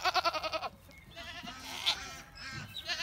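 Goats at feeding time bleat excitedly, a rapid pulsing run of close bleats, then more drawn-out calls from several animals overlapping at a moderate distance.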